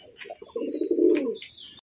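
Nearby, a pigeon gives one drawn-out throaty coo that swells and fades, led by a few short soft notes and a faint higher tone.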